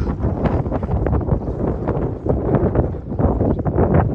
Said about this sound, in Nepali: सरर हावा चलिरहेछ